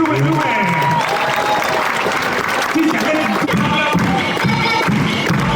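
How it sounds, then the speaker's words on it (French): A crowd at an urban park BMX freestyle event applauds a rider, with loud, sustained clapping layered over crowd noise and voices. "On peut l'applaudir, s'il vous plaît."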